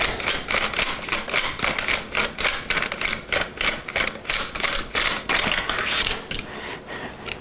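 The threaded bottom section of a Manfrotto monopod is unscrewed, giving a dense, steady run of close, rapid clicks and ratcheting metallic ticks with no talk.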